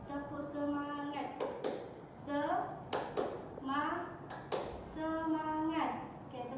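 A child leads the 'tepuk semangat' clap chant in a classroom with a few sharp, distinct claps between bursts of chanted child speech. The claps are loud and close, and the voice dominates the clip.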